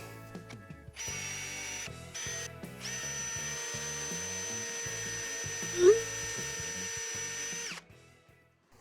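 A power drill bores holes in reclaimed wood, whirring steadily for several seconds, starting and stopping at the beginning, then running continuously before winding down. The bit may be dull.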